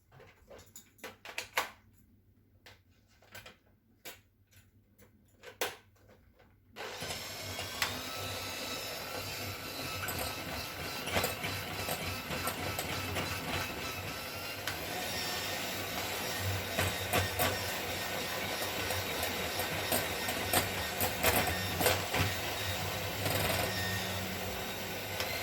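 Brioche dough of egg, vanilla and yogurt is mixed with a steady, loud machine-like whirring that starts abruptly after a few quiet seconds with scattered clicks, then runs continuously to the end.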